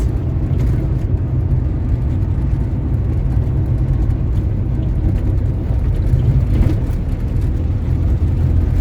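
A 1971 VW Beetle 1300 driving slowly on a dirt road, its air-cooled engine giving a steady, loud, low droning rumble from inside the cabin, with road and wind noise and no talk.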